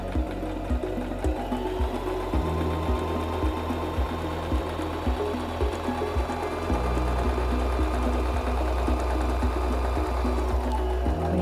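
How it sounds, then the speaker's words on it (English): A SINGER M1500 sewing machine stitches forward through fabric in a loud, fast, even mechanical chatter that shifts speed briefly partway through, with no talking. "Release the reverse lever and continue sewing forward."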